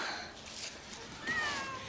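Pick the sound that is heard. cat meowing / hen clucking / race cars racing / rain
cat meowing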